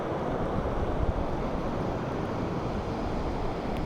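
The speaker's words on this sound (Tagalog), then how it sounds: "Sobrang lakas ngayon oh, lalaking alon." Big ocean waves surge and crash in a continuous, loud roar, mixed with wind buffeting the microphone, with no distinct breaks between swells.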